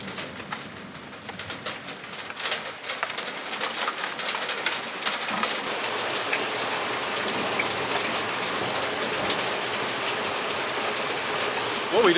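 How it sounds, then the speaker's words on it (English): Steady rain pattering on a metal storage container after a storm of a little over an inch, a dense close hiss with scattered sharper drops, while pigeons or doves coo faintly in the background. "Well, we definitely got some rain, a little bit over an inch."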